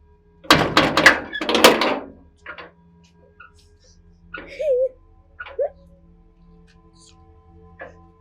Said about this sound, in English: Don't bang my gate again.